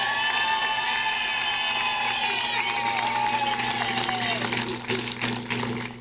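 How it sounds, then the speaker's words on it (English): Crowd cheering and applause at an outdoor Georgia campaign bus tour rally for Herschel Walker, a loud continuous roar with whistles and shouts, scattered clapping building toward the end. "How about a round of applause for him and his family who put up with all this crap?"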